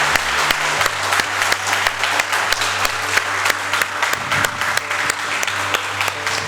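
Church congregation giving a round of applause to the Lord, dense sustained clapping from many hands filling the room, loud and close, with a few distinct sharp claps standing out rhythmically.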